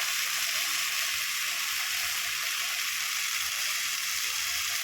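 Water spinach (kalmi shak) with salt sizzles in a pan while being turned over, a faint, even hiss with soft stirring, no voices.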